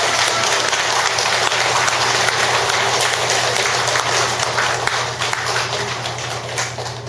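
Audience in a Buddhist lecture hall applauds to welcome a speaker, loud dense clapping that continues evenly and eases slightly toward the end, with a constant low hum beneath.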